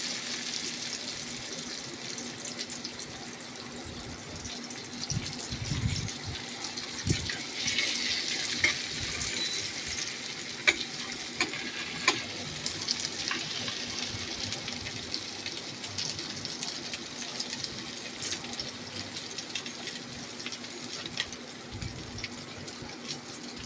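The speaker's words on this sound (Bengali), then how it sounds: "আলুর একটা দিক প্রায় হালকা ভাজা হয়ে গেছে" Potatoes fry in a pan, giving a soft, continuous sizzle with faint crackles and a low steady hum in the background. The sound is quiet and close, and no one speaks.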